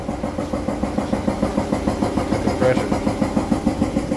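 An air compressor pumps up in a workshop, giving a steady, rhythmic mechanical chugging with fast, even pulses at close range and no break.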